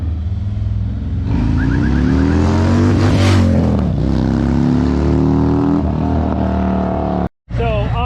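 A Harley motorcycle with upgraded exhaust and intake revs loudly and steadily, the engine note rising and falling in pitch close by, with a brief cutout near the end.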